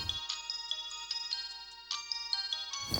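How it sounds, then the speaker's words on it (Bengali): A mobile phone plays a melodic electronic ringtone, a repeating pattern of bright tones ringing for about three seconds, clear and close with no voices over it. "কার ফোন রে?"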